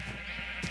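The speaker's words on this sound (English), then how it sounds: "So, sheep farms. God, it's so loud." Sheep penned on a farm in the Minecraft video game bleat in a short, nasal burst, fairly close and alone.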